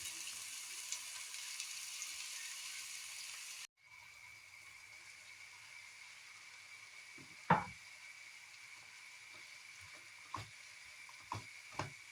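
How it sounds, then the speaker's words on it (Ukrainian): A steady, soft sizzle of onion and carrot frying in oil in a hot pan, with occasional sharp knocks and scrapes of a utensil against the pan. "На гарячу сковорідку наливаю олію та смажу цибулю з морквою до готовності"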